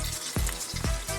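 Tilapia fillets frying in a pan for fish tacos, a constant close sizzle broken by two sharp scraping strokes as the pieces are moved and separated.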